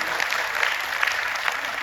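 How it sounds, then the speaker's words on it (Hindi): Enthusiastic applause from an audience, dense clapping that stays steady and loud for the whole stretch. "सबसे पहले मैं टीसी जी के लिए जोरदार तालियां चाहूंगी"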